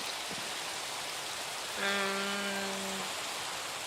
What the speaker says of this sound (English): it's not, it's just raining, right?